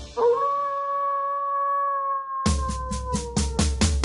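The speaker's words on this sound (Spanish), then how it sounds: "Dime si tú sabes cómo hace el lobo, vamos a escucharlo tú y yo." A single wolf howl rises and holds a long, smooth, sustained tone, then gives way to a burst of rapid yips and barks from a pack.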